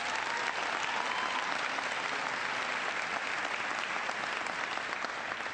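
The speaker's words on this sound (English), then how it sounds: "Give her a big round of applause." Crowd at a school event in Nashua applauds, dense continuous clapping heard from within the audience, steady and even in level from start to finish.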